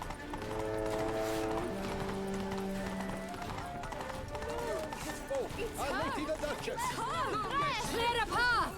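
A horse gallops with rapid clip-clop hoofbeats in The Witcher 3, mixed with a crowd's babble and shouting voices, plus a whinny-like squeal toward the end.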